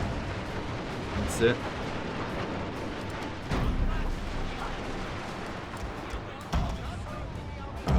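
Gatling guns fire in a video game as a few muffled, booming bursts of gunfire stand out against a rumbling battle background, with someone talking over them.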